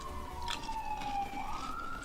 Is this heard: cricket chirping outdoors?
no